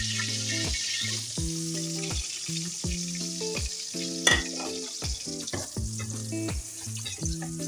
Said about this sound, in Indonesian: Sekarang kita tumis dulu bawang merah dan bawang putihnya.